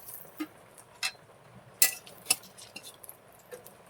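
Metal spatula stirring fried potatoes in a cooking pan, giving a few sharp, scattered clinks and scrapes against the pan in an otherwise quiet kitchen.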